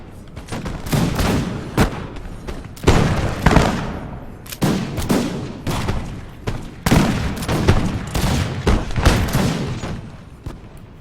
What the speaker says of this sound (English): Don't fire because you're hitting our men. Let's stop the canister shot.